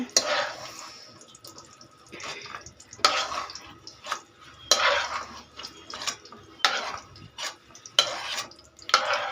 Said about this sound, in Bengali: কিশমিশটি বেশি ভাজবো না, অল্পই ভাজবো।